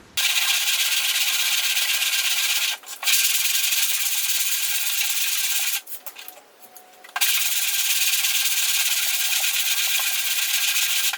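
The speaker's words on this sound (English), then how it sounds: "we'll throw some 36 grit on the speed file and we'll start blocking this down" Body filler on an XB Coupe boot repair is block-sanded with 36 grit paper on a speed file, a loud, close, continuous harsh rasping with two short pauses between long back-and-forth runs.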